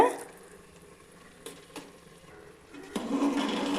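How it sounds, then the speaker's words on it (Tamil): Washed chicken goes into a hot pot for chicken biryani, a quiet stir giving way to a sudden, louder sizzle of frying near the end. "வாஷ் பண்ணி வச்சுருந்ததில் அந்த சிக்கனை சேர்க்கலாங்க."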